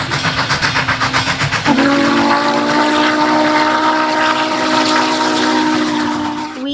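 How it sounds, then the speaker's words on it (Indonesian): A toy train locomotive chuffs in quick rhythmic puffs, then lets out a loud, sustained steam-style whistle that holds steady for several seconds before fading slightly. "Wow, ada kereta api lokomotif."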